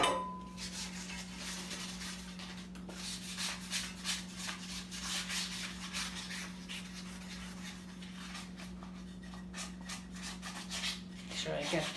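Butter being rubbed around the inside of a stoneware loaf pan, a soft repeated scraping and smearing against the ceramic surface with steady strokes, close and quiet over a faint steady hum.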